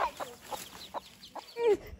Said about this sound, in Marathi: इथे आहेत कोंबडी आणि तिची पिल्ले.